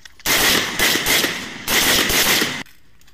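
Rifle gunfire during an 82nd Airborne Division squad live-fire stress shoot: two loud, sustained strings of rapid shots separated by a brief gap, close by, with no talk.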